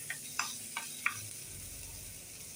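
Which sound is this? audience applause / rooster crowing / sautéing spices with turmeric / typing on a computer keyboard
sautéing spices with turmeric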